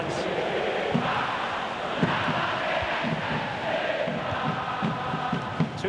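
Stadium crowd in FIFA 23 roaring and chanting in a dense, continuous wash of cheering during a football match, steady throughout with rhythmic low thumps underneath.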